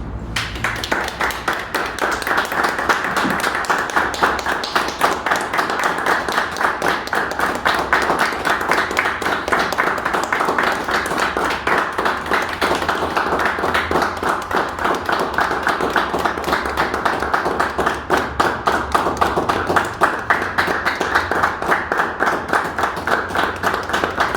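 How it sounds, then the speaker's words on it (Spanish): A minute of applause dedicated to a remembered community member at a doctoral oral defense, a long, steady, rhythmic clapping from a group, close and even throughout. "Allá a Griselda le vamos a dedicar un minuto de aplausos"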